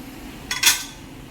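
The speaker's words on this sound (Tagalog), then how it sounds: "Arrange muna natin itong pinggan mga langga." Ceramic plates being set out on a table at home, giving a quick pair of close clinks and clatters against a quiet room background.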